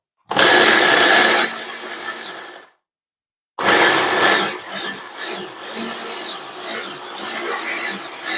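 A blender whirs through mango for a cheesecake filling: a loud motor runs for about two seconds, stops briefly, then restarts and pulses unevenly to the end.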